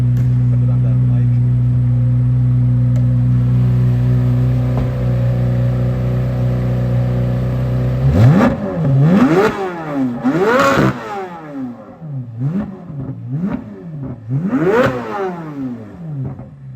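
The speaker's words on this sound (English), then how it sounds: "Do you guys want to hear it rev?" A 2023 Chevrolet Corvette Z06 with Z07 package idles low, then revs repeatedly in sharp climbing and falling bursts, loud and close, about five or six throttle blips, at a Carlisle Corvette show.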